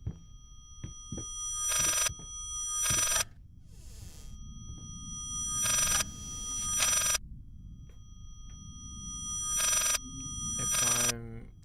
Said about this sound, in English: I think that's supposed to be the phone in our office.